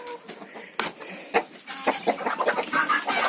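Chickens clucking and calling as they are released from a closed coop on a Ukrainian village farm, several birds near and busy, with scattered short calls growing denser toward the end.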